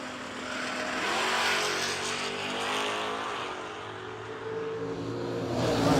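Drag racing cars launching at a no-delay nationals event, a Buick Century wagon and a 1985 Camaro, with loud sustained engine roar, rising revs and tire noise that continues steadily throughout.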